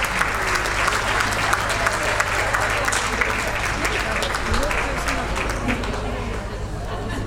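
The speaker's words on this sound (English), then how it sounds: "And round of applause for our coach," Audience applause at a dog show's best-in-show presentation in Darlington, a loud, sustained crowd clapping with scattered chatter and a low steady hum underneath.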